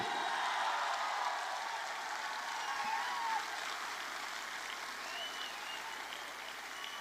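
Loud, sustained audience applause fills a stage event in Patna, a dense steady roar of many hands clapping that carries on evenly for the whole stretch without a break.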